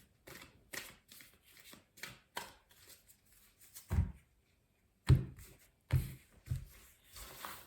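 A deck of oracle cards for a nine-card tarot-style reading is shuffled by hand, making a run of quick, close flicks and riffles followed by a few sharper taps and slaps of cards.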